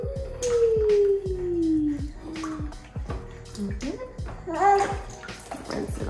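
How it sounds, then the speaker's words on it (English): Warm water poured over an infant's curly hair in an oatmeal bath, splashing steadily while the baby lets out long, falling whines and cries close by. "I'm gonna start by rinsing his hair with some warm water"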